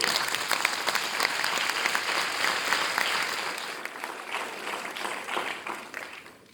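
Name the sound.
audience applause at awards ceremony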